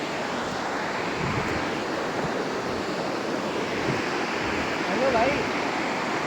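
A river rushes past a riverside campsite in Kullu Manali near a wooden footbridge, a loud steady broadband roar of flowing water with light wind, and someone speaks briefly over it.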